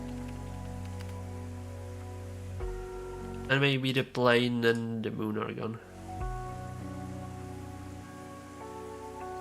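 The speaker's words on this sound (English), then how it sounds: "Maybe it's raining now. But it's small, tiny rain." Light rain ambience laid under a mellow lo-fi music stream: soft, steady patter runs throughout beneath sustained chords, while a voice talks briefly in the middle.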